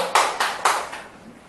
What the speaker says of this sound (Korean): 마지막 우리 수고해주신 우리 강연자 선생님 박수로.